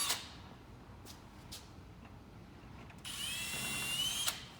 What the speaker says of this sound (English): Drilling right down through the caddy into the chair is all that is required.